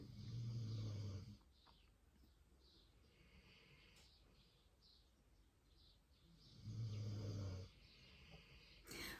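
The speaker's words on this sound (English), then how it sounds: "Oh, sorry about Sprocket snoring. He's still loud" A sleeping dog snores loudly indoors in two long, rasping breaths several seconds apart, with quieter breathing and faint chirps between them and no talking.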